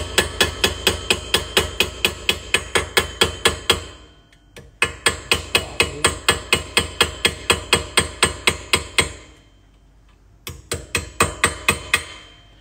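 Hammer striking a chisel while a Purdey shotgun action is shaped by hand, steady rhythmic metallic taps in quick close bursts of a dozen or so blows, separated by brief pauses, loud and alone.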